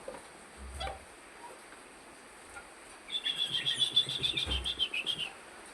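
A sooty-headed bulbul gives a quick series of bright chirps, fairly close, after a few soft scattered sounds and low bumps.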